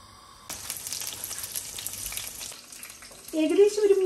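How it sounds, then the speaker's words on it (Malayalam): Egg bajji frying: batter-coated eggs dropped into hot oil at a roadside-stall-style stove, a steady crackling sizzle that jumps in at once and runs on, with a louder burst near the end. "അപ്പം നമുക്ക് മുട്ട നമ്മുടെ ബാറ്ററിൽ മുക്കിയിട്ട് എണ്ണയിലോട്ട് ഇട്ട് കൊടുക്കാം."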